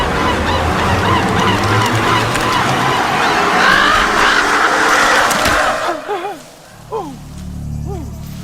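A crow in a video game squawks amid loud, busy game noise, then gives a few distinct, harsh calls near the end.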